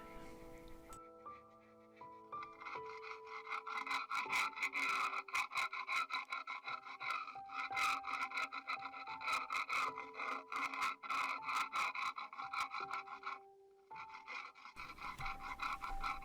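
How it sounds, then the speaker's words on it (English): A screwdriver scrapes and rasps at old rust and flaky bits on metal in a narrowboat engine bay, giving rapid repeated scratching strokes at close range over a steady musical background. "it's just really attack it with a screwdriver and see what happens"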